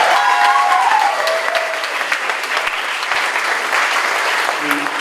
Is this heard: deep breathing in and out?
no